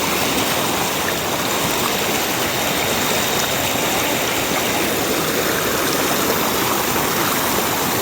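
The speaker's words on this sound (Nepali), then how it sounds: "खोला" A stream flows continuously with a loud, steady rushing hiss of water, unbroken throughout and with no voices.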